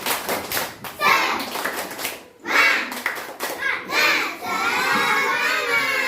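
Pupils in a classroom doing a rhythmic spirit clap, with bursts of patterned group clapping broken by short pauses, and children shouting and chanting loudly along with it.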